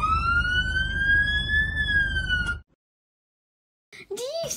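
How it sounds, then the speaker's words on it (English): A fire engine's siren wails loudly and close in a long rising tone that levels off and cuts out abruptly, followed by a second of silence before the siren restarts with a sweeping whoop. "now I can use my sirens as well"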